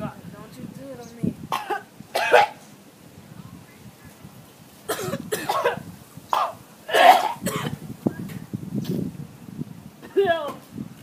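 Repeated harsh coughing and throat-clearing fits come close up in uneven bursts, with pauses and some talking mixed in between.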